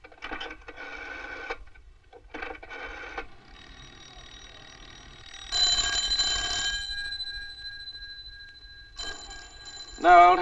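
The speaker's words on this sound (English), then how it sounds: "No, old Harris can't be back yet or he'd answer that phone." An old-fashioned telephone bell rings in repeated bursts inside a 1950s office, sounding clear and fairly close with quiet pauses between rings, and another higher tone joins near the end.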